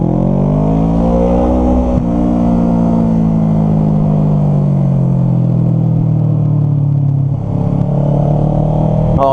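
A Kawasaki Ninja 650 on a ride, its engine droning loud and close as it pulls and accelerates, the pitch rising and falling steadily with rushing wind noise.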